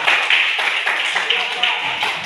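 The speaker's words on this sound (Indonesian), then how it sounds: "Mari kita berikan tepuk tangan" A classroom group of students claps for group 3, a steady dense patter of many hands filling the whole stretch at an even loudness.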